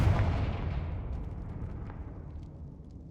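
The decaying tail of a Confringo fire-spell explosion in the video game Hogwarts Legacy, a deep rumbling boom fading away over a few seconds with a loud start.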